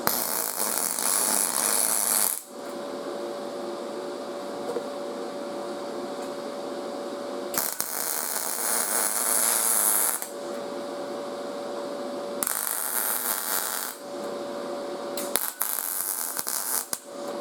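A welder runs at 100 amps on thin motorcycle kickstand metal in several separate bursts of steady crackling buzz with short pauses between them, fairly quiet and with no talk.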